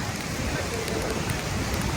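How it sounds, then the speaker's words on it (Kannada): Heavy rain drums down at Maravanthe beach in Udupi during a temple fair, a loud, dense wash of falling water close by that fills the whole moment. "ಸಿಕ್ಕಾಬಟ್ಟೆ ಮಳೆ ಬರ್ತಾ ಇದೆ ನೋಡಿ"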